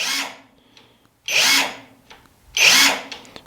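Three short, loud whirring bursts from a PULITUO 1/2 in brushless impact wrench, each lasting about half a second, with brief quiet gaps between them.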